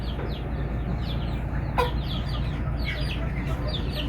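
Hens and growing chicks cluck and peep close by in a backyard pen, continuous overlapping calls with one sharper squawk, over a low steady hum.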